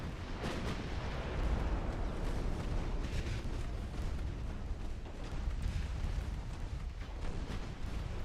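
Naval battle in a strategy video game: a destroyer and battleships trade fire, with repeated deep booms of explosions and torpedo hits rumbling continuously at fairly low volume.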